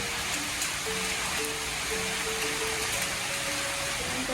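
Steady rain falls in a dense, even hiss with no breaks, a constant wash of drops on surfaces all around, while faint tonal hums sit low underneath.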